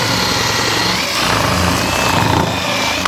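A drill bit spins into wood, boring out a door latch recess during a Portugal farmhouse renovation, giving a steady close whirring hum with a thin high whine that holds without a break.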